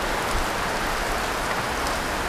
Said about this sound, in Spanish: La lluvia nos cogió de nuevo.